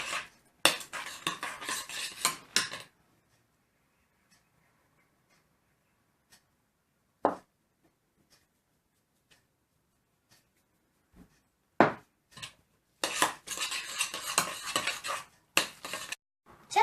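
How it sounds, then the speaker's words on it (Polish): A spoon scrapes and clinks through a thick mixture of ground cabbage and mushrooms in two stretches of stirring, separated by a quiet pause with a few isolated taps. "Zmieloną kapustę i grzyby mieszamy i dodajemy sól i pieprz."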